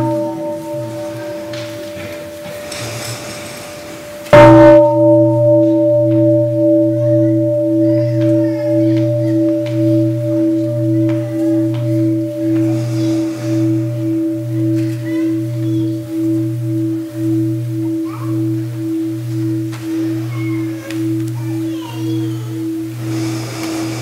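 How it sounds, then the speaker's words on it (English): A small meditation bell is struck once during a Buddhist dharma talk. Its clear tone rings out, then sustains with a steady, slowly pulsing hum that fades gradually through a quiet room. "Okay, the sound of the small bell."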